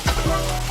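Bread sizzles briefly on a hot grill, a close hiss over a low steady hum with a couple of soft thuds at the start. The baguette sits beside cooking steak for a Filipino bistek cheesesteak. No one speaks.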